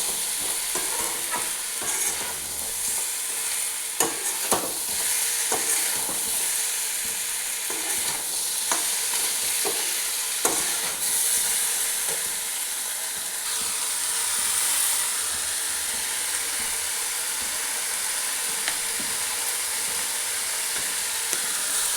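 Spices fry in hot mustard oil in a pan while a utensil stirs them, producing a continuous loud sizzle and hiss with occasional scraping clinks, and no voices.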